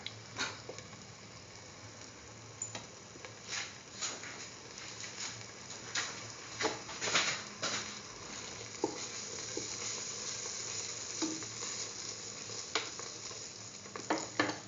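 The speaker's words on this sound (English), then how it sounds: "Keep on stirring." A spoon keeps stirring thickened semolina milk pudding in a pan, producing soft intermittent scraping and thick bubbling sounds, close and quiet, with no voices.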